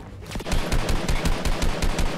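Rapid automatic rifle fire in the mobile game Fortnite, a fast, even burst of about a dozen loud, close shots.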